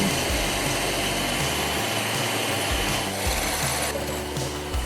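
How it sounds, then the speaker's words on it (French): An electric hand mixer whips liquid cream until firm for a raspberry and white chocolate cake, producing a loud, continuous motor whir with slight shifts in pitch as the beaters move through the bowl. "Montez la crème liquide à l'aide d'un batteur électrique jusqu'à ce qu'elle soit bien ferme."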